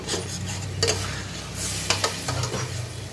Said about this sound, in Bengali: তাই ডালটাকে এখন আমি একটু কষিয়ে নিচ্ছি।